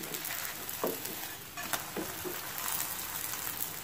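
Roti (paratha) sizzling as it cooks on a hot pan while being pressed down, a steady soft frying crackle with a few brief louder scrapes and taps.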